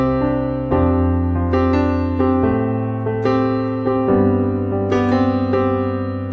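Piano plays a series of lush, ringing worship-style chords with added second and seventh, notes rolled in one by one over a sustained low bass, with no talking.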